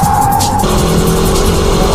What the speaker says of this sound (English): Let's check out the braking drift.